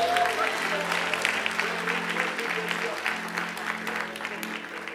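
A church congregation claps steadily, a dense, moderately loud patter of many hands that goes on without a break and sits under a low, sustained musical hum.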